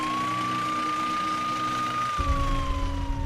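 Police and ambulance sirens wail close by in the small town of Kota, one steady tone sliding slowly downward while a second siren and heavy engine rumble join in near the end.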